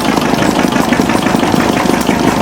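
Antique stationary engines, including Witte diesels, a Bessemer and an old Hercules, run together at a show, a loud, close, steady chugging mix of overlapping firing beats.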